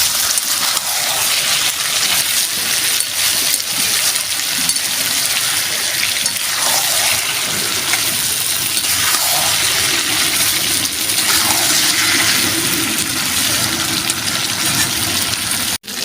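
Water pours into a pan of chicken and fried potatoes, a steady rushing gush and sizzle that continues loudly throughout before cutting off abruptly at the end.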